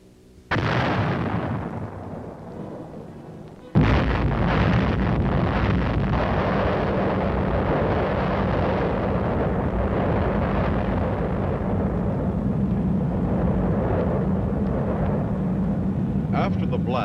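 An explosion on a 1950s test battlefield: a heavy blast bursts in, then a second big boom gives way to a long, loud, rumbling roar that fills the rest, with some talk partly audible.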